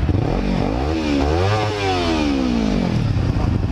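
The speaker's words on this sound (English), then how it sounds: "give me a quick rev" A Yamaha R6 sport motorcycle with a GYTR part revs loud and close, the engine pitch sweeping up to a peak and falling back down in one continuous rev.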